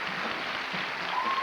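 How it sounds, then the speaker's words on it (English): An audience claps steadily as a speaker's mother is honoured at a 1985 designers display event, a continuous even patter of applause throughout. "Can I have a round of applause for her?"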